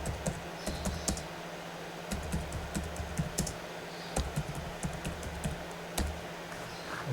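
Close, clicky computer keyboard typing in uneven bursts of keystrokes with brief pauses, quiet and alone with no talk.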